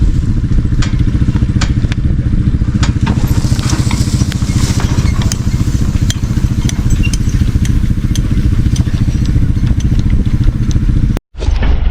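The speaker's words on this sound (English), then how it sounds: "And the tractor. There he goes making the round bale." A loud, steady tractor engine drones close by with rhythmic clattering and thumping from a round baler baling hay, continuous and mechanical throughout.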